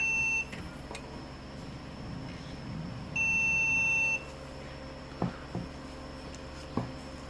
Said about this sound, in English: See if we get a different beep.